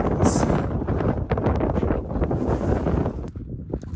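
Strong wind at the Grand Canyon buffets the microphone in a continuous, loud roar of rumbling gusts, with no speech.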